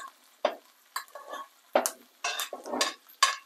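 Steak in a pan with rosemary, fresh thyme and salted butter on low heat, heard as a series of separate sizzling spoon-basting splashes and scrapes, close and moderately loud, with brief quiet gaps between.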